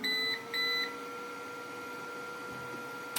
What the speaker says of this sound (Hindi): इसमें जो ऊपर की स्विच है इसको हम एक बार प्रेस करेंगे, बीप की आवाज़ आएगी